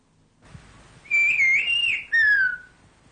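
A Pyrenean whistled-language whistle recorded at close range: two loud, narrow, sliding pitched phrases, the first wavering and the second gliding downward, over a quiet background.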